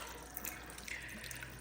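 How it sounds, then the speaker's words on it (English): Water poured from a tap into a cooking pot for chicken noodle soup with elbow noodles, a brief steady hissing splash at moderate level, nothing else audible. "And I'm gonna add some more water."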